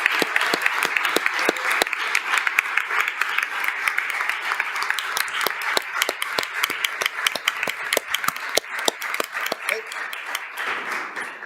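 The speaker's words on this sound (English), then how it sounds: "How about one big round of applause for all our awardees?" A school committee meeting audience gives awardees a long round of applause, sustained crisp clapping from many hands with a few voices mixed in, tapering near the end.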